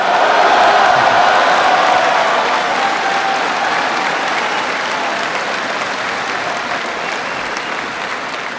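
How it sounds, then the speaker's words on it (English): Audience applause during Obama's speech on ending the war in Iraq, after a line on raising military pay; loud, full crowd clapping, strongest at the start and tapering slowly across about nine seconds. "I figured that'd be an applause line, Secretary Gates."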